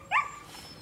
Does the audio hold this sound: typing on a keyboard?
no